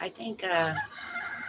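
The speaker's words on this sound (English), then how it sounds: "Oh, good morning, Mr. Rooster." A rooster crows near free-roaming neighborhood chickens, a single rising and falling call that carries through most of the short span, with a person speaking briefly over the start.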